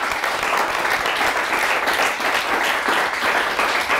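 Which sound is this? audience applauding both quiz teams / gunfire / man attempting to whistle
audience applauding both quiz teams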